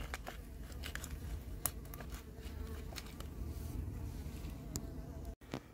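Many stingless bees (iraí) buzzing close by during a hive transfer from a bait box, a dense continuous drone with scattered crackles of handling and no talk.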